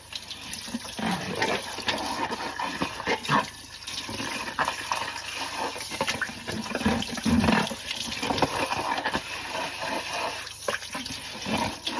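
Running tap water rinses soap suds off a sponge at a sink, a steady, close splashing flow with uneven gurgles lasting throughout.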